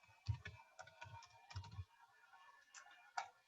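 Typing on a computer keyboard, a short run of soft close key clicks in uneven clusters, with a sharper tap near the end, quiet and alone without speech.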